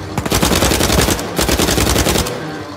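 Rapid automatic gunfire in the video game Uncharted 4, loud bursts of fast shots with a short pause midway, then a second sustained burst trailing off.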